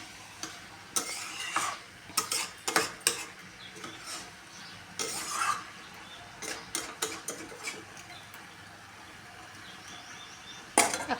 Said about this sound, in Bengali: এখন এটা কষানো হচ্ছে।